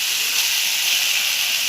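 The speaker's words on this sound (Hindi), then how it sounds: "बटाटे को भाप में पकने के लिए रख दूंगी।" A steady broad hiss of steam comes from a lidded pan of potatoes cooking on a gas stove over low heat. The hiss is continuous and fairly loud, with no voices.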